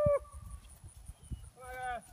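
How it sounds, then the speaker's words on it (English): F1 Braford and F1 Brangus cattle, four-year-old cows at a farm sale, give two short moos, one at the start and a longer one near the end, with faint handling noise between. "I like these cows."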